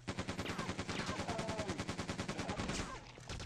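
Rapid, evenly spaced automatic gunfire from the video game Quake 2 Remastered, a continuous loud burst of regular shots that runs almost the entire clip.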